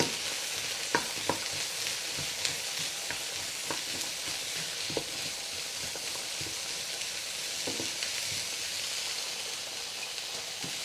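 Chicken teriyaki sizzles steadily in a pan over medium heat, a close, even frying hiss broken by occasional light stirring clicks and scrapes.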